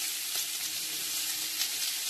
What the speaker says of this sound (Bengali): এটা একটুখানি হালকা করে ভেজে দিই।